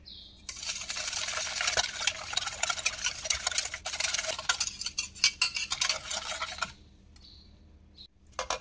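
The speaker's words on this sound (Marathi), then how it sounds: "आता हे सर्व आपण मिक्स करून घेणार आहोत।" Sugar and cocoa powder are stirred together for homemade chocolate ice cream, a brisk, close scraping and clinking of a spoon against a bowl for several seconds, then a few softer taps after it stops.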